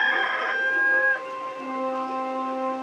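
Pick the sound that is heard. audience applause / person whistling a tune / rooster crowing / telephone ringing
rooster crowing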